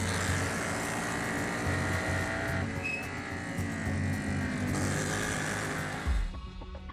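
Race cars dice for the lead on the track at New Jersey Motorsports Park, a dense, sustained engine roar with high whining revs and a brief shift in pitch, loud and continuous.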